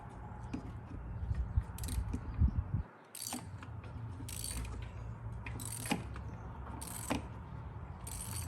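A spark plug tool works on a BMW M5 S63 engine, giving a run of metallic clicks and ratcheting taps over a low mechanical rumble, with a short quiet gap partway through.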